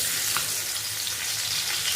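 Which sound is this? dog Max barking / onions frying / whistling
onions frying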